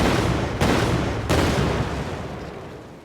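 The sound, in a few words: explosion sound effect played in Unreal Engine 4 radial menu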